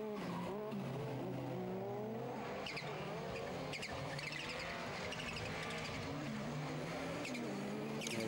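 Rally car engines roar and rev while tyres scrabble and slide on a loose surface during a rallycross superfinal at Maasmechelen, with sharp bursts and gravel noise over the engine drone.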